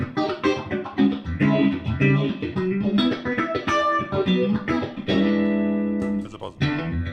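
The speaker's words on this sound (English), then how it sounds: "Here's what the phaser sounds like in comparison." Electric guitar riffs with a swirling, sweeping phaser tone, played up close and fairly loud, notes and chords ringing with no speech.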